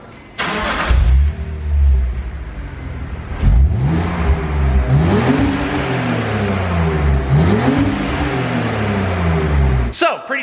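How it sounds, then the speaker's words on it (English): A stock BMW Z4 engine cranks and catches, then settles into idle before several rising and falling revs, loud and close, with a voice briefly audible. "we got to get a before clip of the Z4, a little startup and rev"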